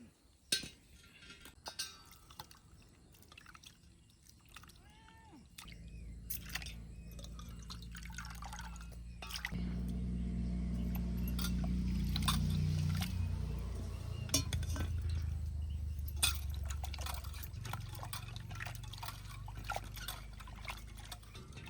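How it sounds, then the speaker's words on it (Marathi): Quail meat is washed by hand in a vessel of water. Quiet drips and small clinks come first, then louder sloshing and pouring nearby that gradually trails off. "हे मग चकचक धुवून घेतलं 2-3 पाण्यानं"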